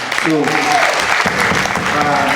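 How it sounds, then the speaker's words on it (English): Audience applause at a memorial concert for Alex Nieto, with loud, dense clapping filling the space and voices heard through it. "So give a round of applause for Antonio."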